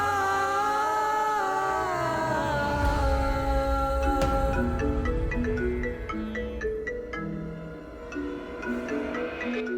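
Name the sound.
phone ringing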